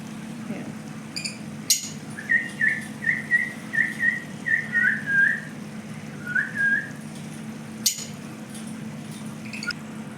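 A quick run of high, bright chirps repeats about ten times, then once more after a pause, over a steady low hum.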